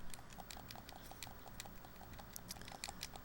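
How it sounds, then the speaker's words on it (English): Controller buttons tapped rapidly and repeatedly during a Crash 3 speedrun, a steady stream of light, close plastic clicks with no talking. "if your ASMR trigger is me tapping buttons repeatedly, then you're in the right place"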